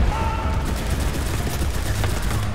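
Hip-fired automatic gunfire in the World War II shooter Enlisted rattles in a dense, continuous burst of rapid shots, loud and close, with no pause across the short stretch.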